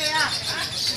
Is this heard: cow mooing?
no